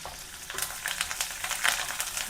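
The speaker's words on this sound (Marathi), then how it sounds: "जिरे मिरच्यांचे तुकडे केले होते ते टाकते दहा ते बारा कढीपत्त्याची पानं" Cumin, chili pieces and curry leaves frying in hot oil for a raw tomato chutney give a steady, close crackling sizzle with frequent sharp spattering pops throughout.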